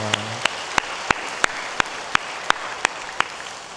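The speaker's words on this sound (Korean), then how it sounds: "우리 서로 좀 격려하는 마음으로 박수로 그렇게 우리 감사의 마음 전하겠습니다" A church congregation applauds together to thank one another, a steady wash of many hands clapping with sharper claps cutting through at a regular beat, with a low hum fading out at the start.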